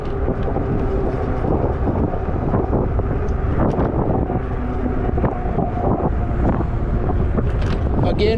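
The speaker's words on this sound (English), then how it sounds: "Sunny day, but a little breezy." Steady, loud wind buffets the microphone throughout on a sunny, breezy, chilly day while riding a Zota Zephyr 20-inch fat tire e-bike on wide sidewalks, with faint road and ride noise mixed into the rumble.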